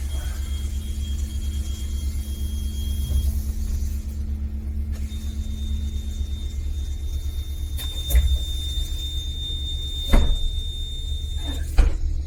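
Door of an Iveco Urbanway three-door gas-powered city bus closing over a steady idling engine rumble, with a high whine and several sharp mechanical clunks and pneumatic bursts near the end.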